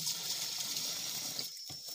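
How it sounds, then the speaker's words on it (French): Bucket of water poured into a sprayer tank outdoors, a continuous close splashing pour that cuts off near the end with a brief final splash. "tu puises encore un seau d'eau, tu verses à l'intérieur"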